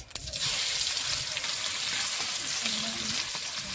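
Steady, bright sizzling of chopped onions frying in hot oil with cumin seeds, continuous and close, with a faint low hum underneath.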